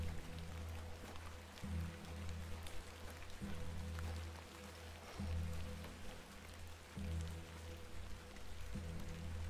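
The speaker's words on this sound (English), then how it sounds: "Let's get out of the rain." Steady rain patters continuously over a low, rhythmic droning hum in the video game The Excavation of Hob's Barrow, with no talking throughout.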